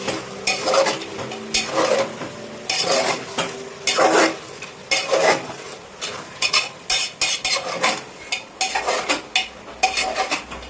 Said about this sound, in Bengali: দিয়ে এবার এটাকে ভালো করে মিক্স করতে হবে